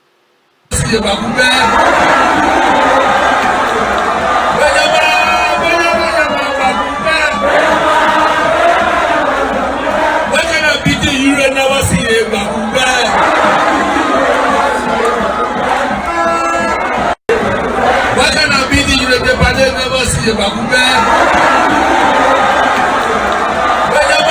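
A large crowd cheers and roars continuously at a party headquarters while a president rallies supporters, with loud shouts and whoops all the way through and a brief cut in the middle.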